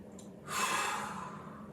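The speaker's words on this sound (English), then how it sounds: "2 more big breaths" A single deep, close exhale during a mobility stretching exercise, breathy and airy, swelling quickly and then fading gradually over about a second, with a faint sniff just before it.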